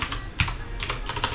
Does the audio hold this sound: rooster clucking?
no